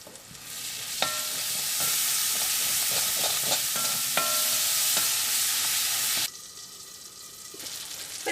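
Tomatoes frying in oil for a Kerala-style beef fry, stirred now and then: a steady close sizzle with scraping spoon clinks, easing to a quieter bubble near the end.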